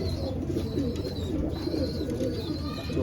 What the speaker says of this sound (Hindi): ये शेखुपुरी मेरा कबूतर आ गया सामने।